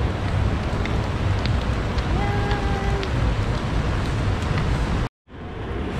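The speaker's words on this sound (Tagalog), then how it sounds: "Kung kailan nawala yung typhoon 8 tsaka siya umulan ng malakas" Heavy typhoon rain in Hong Kong makes a steady, dense roar close to the microphone with some wind noise, broken by a brief dropout near the end.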